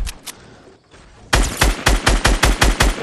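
Video game gunfire: after a few isolated shots, an automatic weapon fires a rapid, loud burst of evenly spaced rounds close up, continuing steadily to the end.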